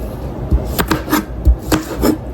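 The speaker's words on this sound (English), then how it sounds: "cutting these things in julienne style." A knife cuts vegetables into thin julienne strips on a board, giving a series of close, crisp chops at an uneven pace, some knocks heavier than others, with no voices.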